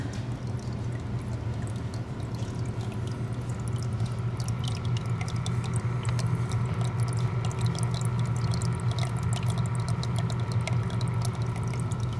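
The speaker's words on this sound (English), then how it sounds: "We have a waterfall down here. This is our waterfall." Small waterfall in a paludarium runs steadily, a continuous close trickle and splash of falling water with no breaks.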